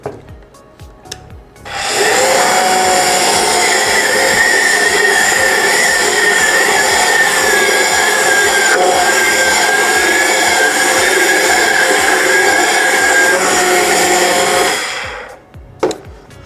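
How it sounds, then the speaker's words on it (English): Immersion blender whirring through tomatoes, sauteed vegetables and garlic in a home-style Italian brunch kitchen: a loud, steady buzzing grind that starts abruptly, holds for about thirteen seconds with a slight pitch wobble, then cuts off. "Now we're going to take our immersion blender and we're going to blend everything together."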